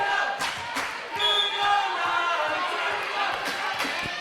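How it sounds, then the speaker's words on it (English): A home crowd chants rhythmically at a basketball game in the Knight Sports Arena, with sneaker squeaks, thuds and ball bounces punctuating the steady roar. "Starting to hear the chants from the home crowd here"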